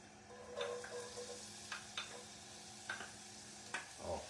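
Chopped onion frying in a warmed pan for pasta with chickpeas, a soft steady sizzle broken by several light scraping stirs and clicks of a utensil against the pan, fairly quiet and close.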